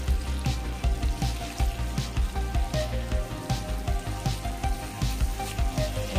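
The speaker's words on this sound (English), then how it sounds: "I have now added the 50 grams butter into the pot and I'm making it hot" Fifty grams of butter melting in a hot pot, a dense, continuous crackling sizzle with rapid popping, close and loud throughout with no voices.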